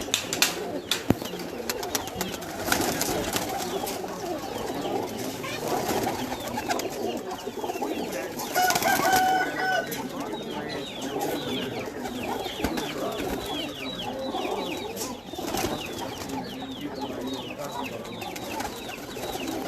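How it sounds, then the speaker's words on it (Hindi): Pigeons coo steadily in a busy, noisy setting at a pigeon keeper's, their soft repeated calls blending with clucking birds and general background commotion throughout. "इनके पास टैडी और मगर कबूतर ही है माशाल्लाह।"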